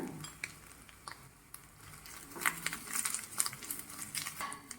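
Grated coconut fries with dried chillies and curry leaves for a pumpkin dal curry, giving a soft, steady sizzle with a spoon scraping and clinking in the pan. The sizzle grows busier and louder toward the end.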